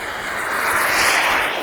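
Steady buzzing whine of a small model airplane engine, loud and close, rising slightly as it revs through takeoff on a gusty day with wind noise around it.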